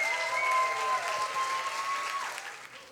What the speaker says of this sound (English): with a warm round of applause, please say goodbye to all the slammers except for number 1